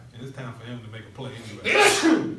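Someone talks briefly, then a single loud, abrupt sneeze bursts out close to the microphone near the end.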